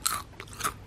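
Two crisp crunchy bites into crisp food, close up, a short pause between them, with faint rustling in the quiet between.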